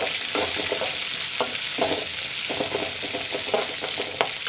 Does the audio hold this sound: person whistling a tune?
no